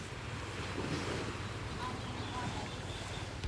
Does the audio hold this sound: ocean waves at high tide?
yes